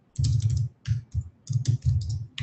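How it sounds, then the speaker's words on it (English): Fingers type in quick, uneven bursts on a computer keyboard, loud and close, with clattering key strokes separated by short pauses and no speech. "I started typing in the chat."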